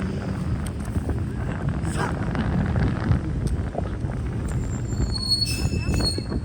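Strong cold wind on a shopping street in Boston buffets the microphone in a constant low rumble, with faint scattered clicks and high tones over the roar.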